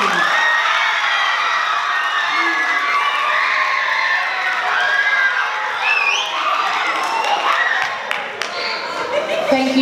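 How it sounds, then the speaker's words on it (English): Audience at a school debate between Year 9 students and teachers cheers and applauds the proposition team, a loud, sustained roar of clapping, shouts and whoops with chatter mixed in. "Round of applause, team"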